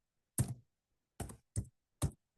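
Four sharp, separate keystrokes on a computer keyboard while a spreadsheet formula is entered, quiet and close, irregularly spaced with silence between.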